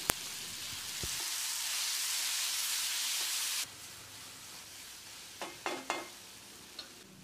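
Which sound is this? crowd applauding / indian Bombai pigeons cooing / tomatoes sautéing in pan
tomatoes sautéing in pan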